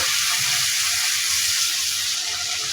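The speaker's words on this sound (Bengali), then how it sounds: "দিয়ে আমি এখন মশলাটাকে ভালোভাবে কষিয়ে নেব" Garlic paste and spice paste sautéing in hot oil for a fish curry with ridge gourd, giving a steady, dense sizzle that holds evenly throughout with no voices.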